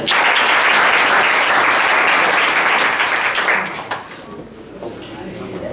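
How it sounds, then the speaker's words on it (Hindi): A studio audience at a quiz show gives a contestant a dense burst of applause that holds steady, then thins and fades out near the end. "इसके कॉन्फिडेंस के लिए प्रकाश की ताली हो जाएगी"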